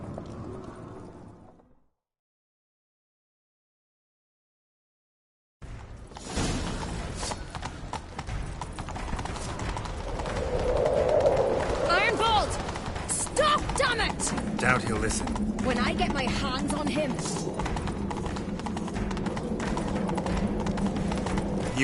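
Horses gallop in a rhythmic clip-clop during a video game chase, starting after a short silence and continuing steadily to the end, with voices speaking briefly over the hoofbeats.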